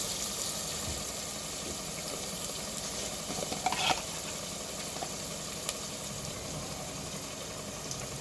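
Onions with a little salt frying in a covered pan while country chicken pulusu is being made, a steady soft sizzle throughout with faint stirring clinks.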